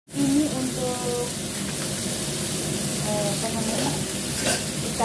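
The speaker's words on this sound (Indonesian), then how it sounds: "Jadi ikannya kita goreng dulu." Pindang fish frying in a pan gives a steady, close sizzle and crackle that runs throughout with no one speaking.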